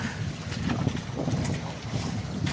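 A faulty engine on a small fishing boat runs with a rough, rattling low rumble, steady and close, mixed with wind buffeting the microphone.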